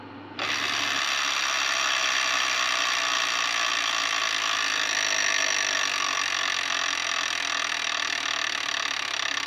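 Spinning wheel of a Wheel of Fortune Deluxe Edition electronic tabletop game, a steady, loud mechanical ratcheting whir that starts abruptly and runs continuously without pause, with no voices over it.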